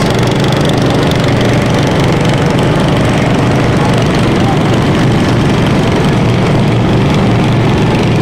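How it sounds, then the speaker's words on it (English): Garden tractor engines at a tractor pull parade in Moira, heard as a loud, continuous mower-like drone with heavy low rumble throughout, with voices faintly mixed in. "These are pulling garden tractors."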